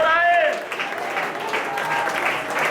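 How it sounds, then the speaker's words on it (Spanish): A church congregation applauding during a Sunday school service, brief warm clapping that fills the room, with voices sounding over it. "Es nuestro Rey y lo adoramos en esta mañana y lo aplaudimos"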